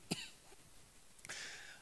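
A single sharp cough comes from a preacher during a church sermon, followed by a softer throat-clearing sound, both close and isolated against a quiet room.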